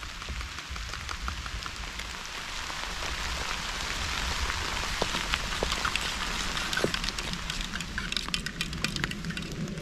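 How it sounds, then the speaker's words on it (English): Steady rain falling, a dense hiss of drops with scattered sharper patters, slightly heavier in the second half. "You'll have like a wave of rain"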